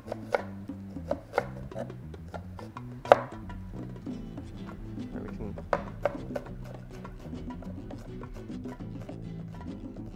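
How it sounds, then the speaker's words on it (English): A knife chops an onion on a cutting board for ceviche, with a series of sharp, close taps, irregular at first and then quicker and more even, with no talking. "And this is how to properly chop an onion"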